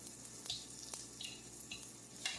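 Soft, steady sizzling of chicken meatballs in a hot cast-iron skillet, close and quiet, with faint clinks and scrapes.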